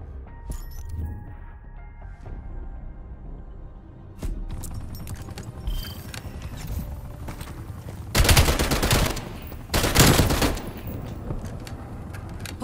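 Sustained automatic gunfire in Call of Duty: Black Ops Cold War, with steady bursts throughout and two especially loud, dense volleys of close fire near the end.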